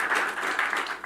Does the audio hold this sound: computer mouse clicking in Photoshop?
no